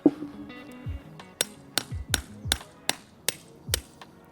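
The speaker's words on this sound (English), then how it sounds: "let me go get a chisel and a hammer for this guy and we'll start breaking up some rocks" Hammer blows strike a chisel to break up dragonstone rock for an aquarium aquascape, about eight sharp, close metallic taps with dull thuds, coming in an uneven but steady rhythm.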